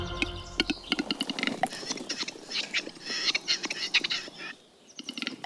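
A male capercaillie gives his morning display calls at a lek in Scotland, a close, irregular run of sharp clicks, pops and gurgling notes with short pauses between bursts.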